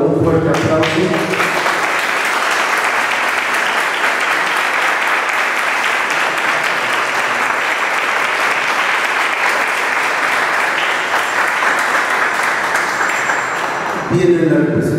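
Sustained audience applause for a winner at a 2019 short-story contest award ceremony, a dense steady wash of clapping lasting nearly the whole stretch, with faint voices at the start and end.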